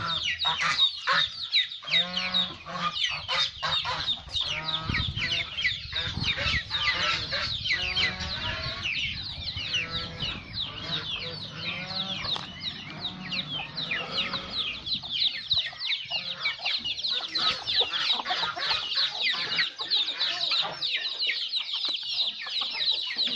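Chickens on a farm at feeding time, with dense overlapping clucking and squawking from a flock, close and constant throughout.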